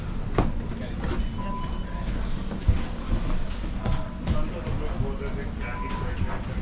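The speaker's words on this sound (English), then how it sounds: "We are going to take the tram" Evening tram ride through a European city, with a steady low rumble of the car rolling on rails, scattered clicks and squeals, and occasional voices in the background.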